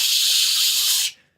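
A sizzling hiss plays as a sound effect during a Traveller tabletop RPG one-shot session: a loud, steady broadband hiss lasts about a second, then cuts off abruptly into silence.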